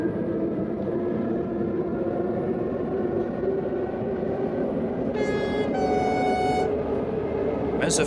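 A Mat 64 train horn toots in Train Simulator 2014 on the Vechtdal lines, two short tonal blasts over the steady drone of the running train.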